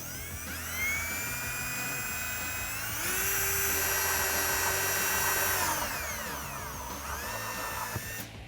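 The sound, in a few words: drill with 3/4 inch step drill bit drilling hole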